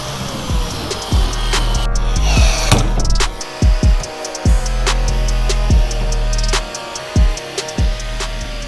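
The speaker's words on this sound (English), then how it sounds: "So let's go ahead and get this drilled." A power drill drills boat metal in repeated short bursts, its whine spinning up and down several times, close and loud with brief pauses between.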